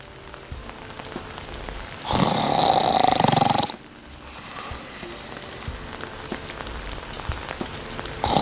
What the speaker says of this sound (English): It's raining and storming here, so I'm kind of scared.